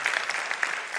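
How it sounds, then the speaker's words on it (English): Brief burst of audience applause in a conference hall, a dense even patter of many hands clapping at moderate volume with no voices over it. "Another applause for Anne Lise Kjaer."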